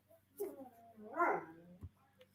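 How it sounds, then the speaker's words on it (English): Dogs whining to be let outside, a couple of high whimpers and a short yip, fairly close but soft, with no talking. "My dogs are crying to go outside."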